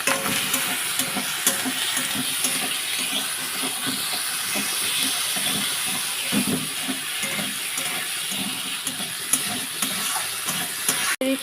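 Chopped tomato stirred and fried for a homemade rohu fish curry, a steady loud sizzle with rhythmic spoon scrapes and stirring throughout, no voices.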